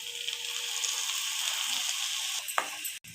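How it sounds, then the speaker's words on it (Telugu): Blended raw tomato paste frying in a pan for an egg curry, a steady bright sizzle and hiss throughout with a few soft stirring scrapes near the end, close and alone without any talk. "టమాటా పేస్ట్ కూడా వేగింది"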